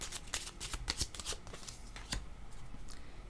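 Tarot cards are shuffled up close in a quick series of crisp riffling snaps and flutters, dense and rhythmic, with no talking over them.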